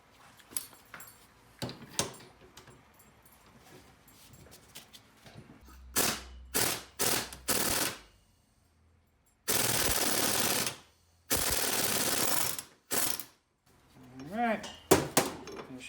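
A jaw puller works fifth gear off an SRT4 transmission: metallic clanks, ratcheting and taps, then long bursts of harsh power-tool noise, with a voice speaking in between.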